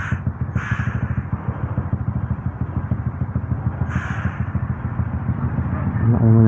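Honda CB150 motorcycle engine revving close by in a steady, pulsing drone that swells louder toward the end, with brief high squeaks above it and no talk.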